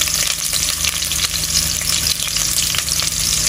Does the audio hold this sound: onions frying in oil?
yes